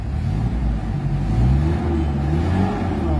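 A Mitsubishi Adventure engine revving steadily at about 3,000 RPM, high pitch, loud and close, with a rising-and-falling drone and no talk.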